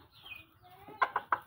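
A Serama chicken clucks close by in a backyard: a faint squeaky call, then four short, sharp clucks in a quick even rhythm.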